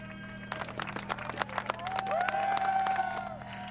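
Scattered clapping and cheers ring out at a Ferrari Challenge Europe race podium at the Nürburgring, sharp individual claps over a low steady hum, with a rising whistle-like tone and crowd voices toward the end.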